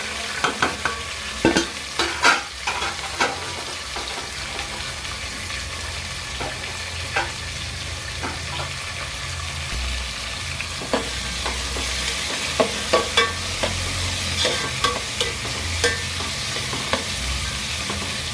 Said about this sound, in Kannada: ತರಕಾರಿ ಇತ್ತು ಮನೆಯಲ್ಲಿ, ಹಾಗಾಗಿ ಇದೆಲ್ಲ ಹಾಕಿ ಒಂದು ಟೊಮೊಟೊ ಬಾತ್ ಮಾಡ್ತಾಯಿದ್ದೀನಿ.